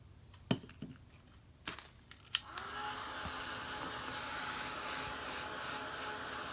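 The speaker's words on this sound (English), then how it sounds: "So let's hit it with the hairdryer." A few crinkling clicks, then a hairdryer switches on and blows with a steady whirring hum close by, heating a clipboard craft project.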